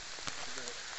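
Steady rain falls on a wet riverbank camp, a dense close patter on surfaces with a few heavier drops, no talking heard.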